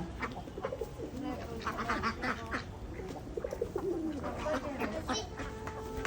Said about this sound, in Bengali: হাঁসও আছে তোমাদের না?